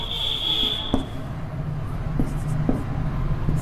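An equation being written by hand during a lesson on pairs of linear equations in two variables: soft, close scratching strokes with a few distinct taps, quiet and unhurried, with a brief high tone at the start.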